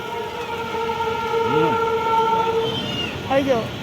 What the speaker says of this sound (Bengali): মালগাড়ি যাচ্ছে মালগাড়ি মালগাড়ি